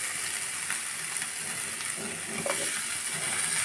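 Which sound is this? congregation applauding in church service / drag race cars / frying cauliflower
frying cauliflower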